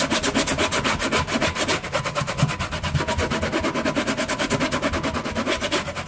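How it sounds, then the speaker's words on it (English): Vent hood screen scrubbed with a few drops of dish liquid, a steady rapid rasping rub in quick back-and-forth strokes, close and loud throughout with no talk. "And then just kind of scrub that in as well"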